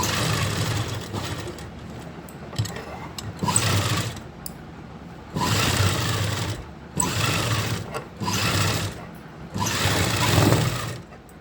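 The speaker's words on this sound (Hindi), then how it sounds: "तो मैं पूरे गले पे इस तरीके से ये सिलाई लगा लूँगी।" A sewing machine stitches around a kurti neckline in repeated bursts of fast mechanical whirring, each a second or two long, separated by short pauses.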